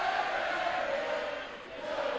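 A high school basketball crowd in a gym sings a sustained, loud group chant, continuous voices blending together without a break.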